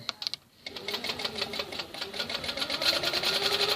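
A Handiquilter longarm quilting machine stitching a quilt: after a few quick stitches and a short pause, a steady rapid mechanical chatter of the needle runs on continuously, close and fairly loud.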